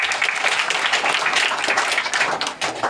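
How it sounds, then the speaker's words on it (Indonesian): A crowd of worshippers at a Balinese Hindu temple anniversary ceremony breaks into steady, dense applause, many hands clapping together close by and continuing without pause from start to finish. "tepuk tangan kagem umat"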